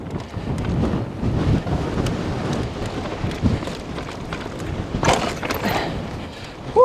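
Gusts of wind buffet a microphone on a mountain bike trail with low rumbling bursts, rising and easing over several seconds, ending in a louder thump.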